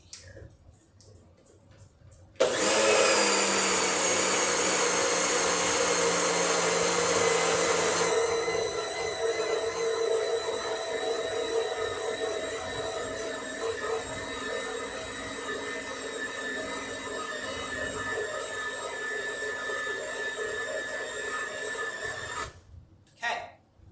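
A kitchen blender pulses gluten-free ingredients into powder, starting abruptly with a loud, high whirring roar, then settling into a steadier, somewhat lower grinding hum that runs for about twenty seconds before cutting off.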